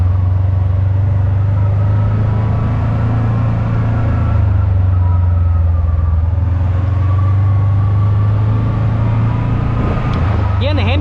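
A 2026 Kawasaki PRO-FXT 1000 LE side-by-side drones steadily and loudly while driving, with a constant low engine rumble heard up close from start to finish.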